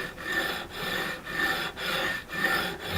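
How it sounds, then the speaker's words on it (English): Rhythmic rasping strokes of a sanding bar filing the metal frets of an Ibanez RG570 guitar, about five back-and-forth passes, close and steady with no talking. "make another very light pass over this guitar with a sanding bar"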